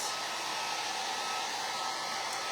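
A hair dryer blowing continuously on a patriotic craft banner, a steady close whooshing roar that holds at an even level throughout with no talking.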